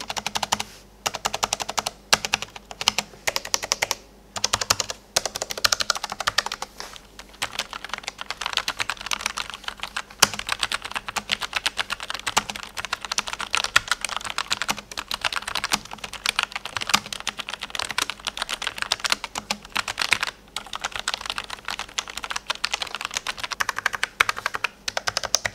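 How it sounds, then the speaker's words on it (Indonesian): Continuous typing on a Logitech MX Mechanical keyboard with mechanical switches and ABS keycaps: a steady close stream of crisp clacking keystrokes with short pauses, including occasional heavier stabilized space-bar hits. "Travel distance yang lebih terasa ketimbang menggunakan membran bikin ngetik di keyboard ini terasa lebih nyaman."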